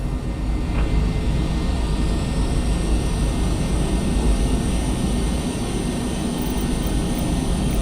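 A Volaris passenger jet taxis toward runway 05 left at Mexico City airport, its engines giving a steady, loud, broadband roar with heavy low rumble that holds constant throughout.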